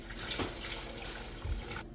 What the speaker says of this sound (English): Then you want to add in your water.